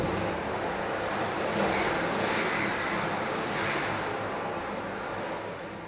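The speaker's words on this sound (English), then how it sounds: "with this scrubbing brush, which I like this one because it's kind of quite malleable" A scrubbing brush is swept across a bass drum head, producing a continuous soft, airy swishing wash that rises and falls gently, close and alone.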